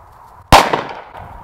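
A single sharp, loud gunshot-like crack bursts out of near silence, then rings and decays over about a second, during duck dog training outdoors.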